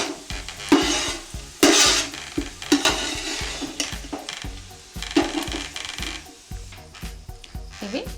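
Prawns frying in oil until golden brown for an Andhra-style prawn biryani, with loud crackling sizzle and repeated scraping and clinking of a spatula against the pan.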